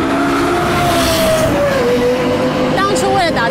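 A Lexus LFA at full throttle howls loudly and continuously, its high-pitched engine note sliding and shifting as the revs change. A voice may be faintly present under the roar.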